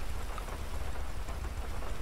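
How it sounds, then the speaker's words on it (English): Steady rain pours in a video game roleplay scene, a dense continuous hiss of drops with a low rumbling undertone, filling the whole moment without talk. "It's raining."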